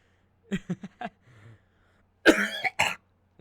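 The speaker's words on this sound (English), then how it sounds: "I cough 12 times, and then I end with a hack." A burst of several quick coughs in succession, then a pause and a harsher, drawn-out hacking cough, close and alone.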